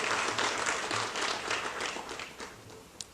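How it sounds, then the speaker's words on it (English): A round of applause from a crowd at an Irish celebration, a steady wash of many hands clapping that gradually thins and fades over a few seconds, with no talk over it. "So let's give everyone a round of applause."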